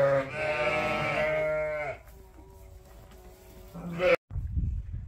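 Țurcana sheep bleating repeatedly on a farm in Hunedoara, the loud, wavering bleats close by in the first two seconds, then a brief bleat near the end with soft farmyard ambience between.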